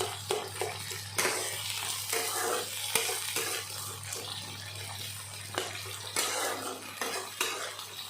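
Taro stolons (kochur loti) fry in a pan with a steady broadband sizzle, broken by repeated scraping stir strokes and pan clatter, plus a low steady hum underneath; no one speaks.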